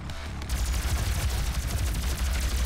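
Sustained rapid gunfire from a weapon in Doom 4 runs as a dense, loud automatic burst after a short quieter lead-in, with heavy low-end thump and no voices over it.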